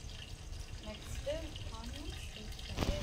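Water pours steadily into a pot of chicken bagara rice being cooked over a wood-fired stove, a continuous liquid rush heard under a person speaking.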